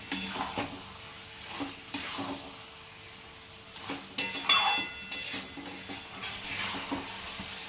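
Bottle gourd frying in goat fat sizzles softly under scraping and clinking from a utensil against the pan, with stirring strokes repeating irregularly and a few sharper metallic taps, close and fairly quiet.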